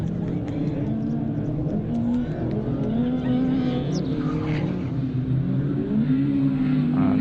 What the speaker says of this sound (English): And side by side now the 205 GTI and the Escort, but Lee Wood manages